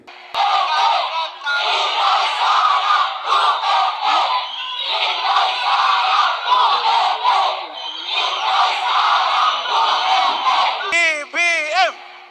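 A large crowd at a political rally in Negros Oriental chants and shouts in loud rhythmic bursts, repeating the same cry again and again with short gaps, and a close voice briefly calls out at the end.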